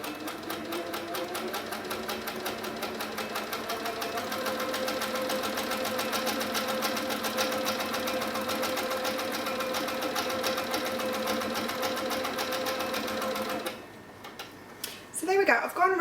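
An HQ Sweet Sixteen sewing machine stitching around a raw edge applique runs in a steady, rapid mechanical ticking rhythm for most of the stretch, then stops and a few small handling sounds follow.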